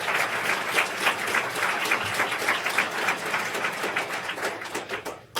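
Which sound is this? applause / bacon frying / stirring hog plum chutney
applause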